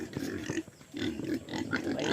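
Pigs on a countryside farm in the Philippines grunt and snuffle close by, with low, rough bursts that come one after another and a brief pause in the middle.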